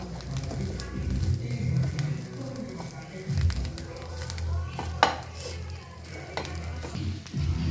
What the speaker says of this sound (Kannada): ಸಾಲ್ಟ್ ಹಾಕಿ ನೀಟಾಗಿ ಮಿಕ್ಸ್ ಮಾಡ್ತಾ ಇದ್ದೀನಿ